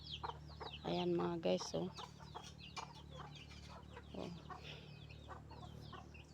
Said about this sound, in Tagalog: Ayan, malulusog na manok.